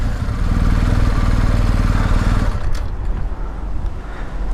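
A 2022 BMW 1250GS motorcycle engine runs at a steady, close, rumbling idle as the bike pulls up to a curb, and the sound fades and settles midway through.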